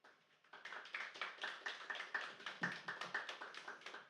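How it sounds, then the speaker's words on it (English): Small audience clapping after a poem reading, a quiet, fairly sparse patter of claps with a steady rhythm, rising a little and then holding. "It's a bit weird clapping to the poems, isn't it?"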